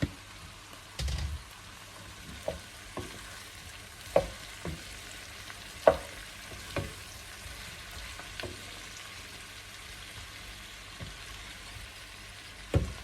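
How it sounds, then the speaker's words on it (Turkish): Cauliflower florets added to a pan of olive oil give a soft, steady frying hiss, broken by scattered clicks and taps of stirring or spattering every second or so, alone without any talk. "Şimdi bu aşamada ben çiçek çiçek yaptığım karnabahar da ekliyorum arkadaşlar."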